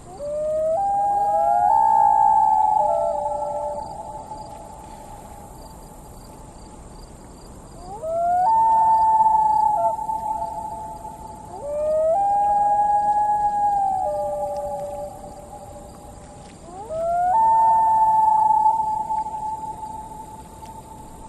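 Two loons trade long wailing calls across a lake, each rising, sustained cry swelling and fading in turn, with several calls spaced a few seconds apart and open-air quiet between them.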